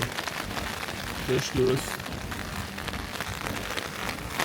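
Steady rain patters outdoors during a wild storm, a dense continuous hiss with no gaps, while someone speaks over it in a few brief bursts.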